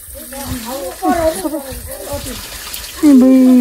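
Water runs steadily in an open village setting, a continuous broadband rush underneath a voice talking throughout, with a brief louder vocal tone near the end.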